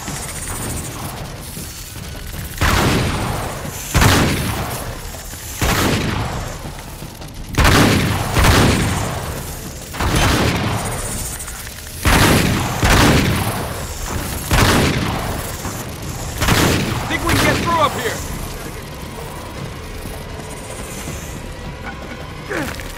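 Gunfire and heavy booming explosions from the video game Uncharted 3 come in loud repeated bursts roughly every two to three seconds, a chaotic firefight with crashes and no talk over it.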